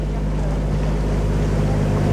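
A boat cruising the canals of Bruges, with a loud, steady low engine drone and a wash of wind and water noise over it.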